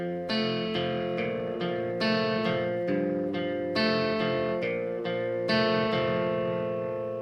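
An electric guitar plays a riff slowly, a run of ringing, effects-coloured notes and chords picked one after another at an even, deliberate pace, with no talk.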